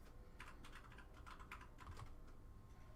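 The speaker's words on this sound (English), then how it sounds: "Russell's frantically typing something in the background and I don't know what he's doing." Rapid, uneven clatter of keys on a computer keyboard being typed on frantically in the background, fairly faint and steady over a low room hum, with no talking.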